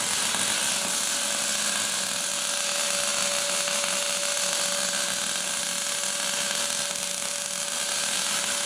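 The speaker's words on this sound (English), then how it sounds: "thought I'd take a second and show you some of his welding." Steady, continuous welding hum on a truck frame with a constant tone running unbroken throughout, fairly loud and with no voices.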